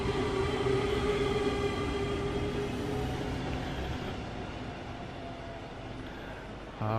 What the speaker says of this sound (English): Small train coming through.